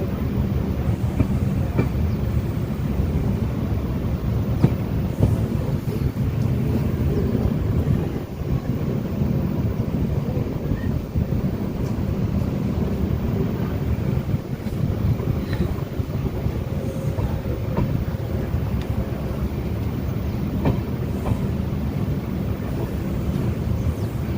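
The Kasganj–Aishbagh Express rolls through the dense Pilibhit forests, heard from on board as a steady loud rumble and rattle with wind noise and no voices.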